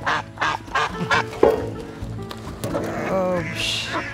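Ducks being released outdoors, quacking in a run of short, loud calls near the listener, with people talking over and between them.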